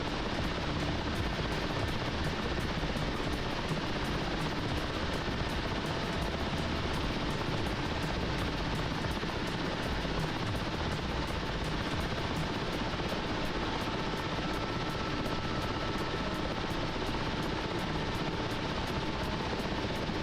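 A simulated helicopter hovers in the DCS World flight simulator game with a dense, unbroken rotor and turbine roar and a rapid chop, loud and steady throughout.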